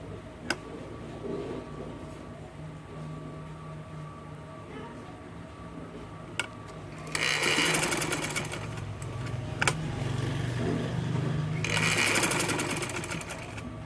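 A sewing machine stitches the hem of a ladies' shalwar in two distinct bursts of whirring, with quieter handling and faint ticks between them. The sound is close and moderately loud.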